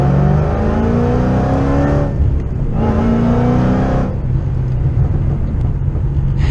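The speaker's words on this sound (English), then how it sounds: "It has that exact V8 rumble that you want to hear." A 787-wheel-horsepower Shelby GT500 V8 with a header-back exhaust and Corsa axle-back section accelerates hard. Its loud, close, deep rumble builds in two pulls with a brief dip between shifts.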